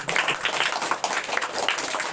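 Short burst of applause from students and staff at a school prize distribution as a medal is presented, dense clapping at moderate volume with a faint voice underneath.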